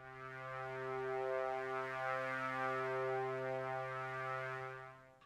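A soft, sustained ethereal glassy synth pad holds a steady chord, its tone gently swelling and shifting over several seconds before fading out.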